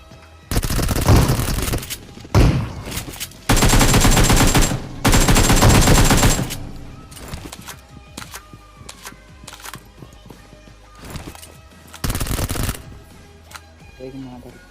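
Rapid bursts of gunfire in a military-base battle royale match, several loud volleys of shotgun and automatic fire spread across the span with quieter gaps between, a voice talking underneath.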